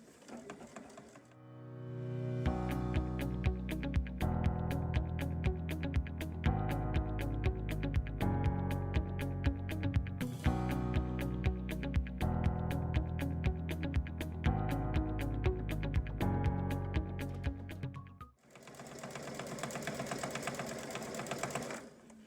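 Baby Lock Solaris sewing machine stitching a quilt border, running in rapid even bursts of needle clatter that stop and restart, close and loud, with a brief pause near the end.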